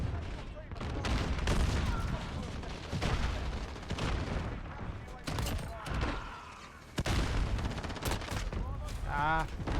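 Gunfire in Call of Duty: Modern Warfare, with repeated sharp shots and short bursts scattered through a noisy firefight. A few heavier thuds and faint background game sounds mix in.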